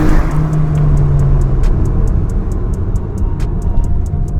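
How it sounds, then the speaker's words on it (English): Honda City cars, a 2020 i-VTEC and an older VTEC, launch in a drag race with a loud, sustained engine roar and rising revs close by throughout. "The new City, it launches quicker"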